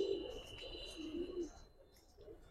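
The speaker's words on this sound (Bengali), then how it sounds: "হ্যাঁ হাই ফ্লেয়ার ক্রসের কবুতর।" High flyer cross pigeons coo softly in low, repeated throaty calls, faint and close, with light background noise and no talk.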